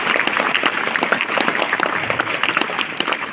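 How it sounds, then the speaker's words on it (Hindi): Audience applause at a yoga gathering, a dense steady clapping from a crowd that keeps up without a break, loud and close. "जोरदार करतल ध्वनि होनी चाहिए आपकी"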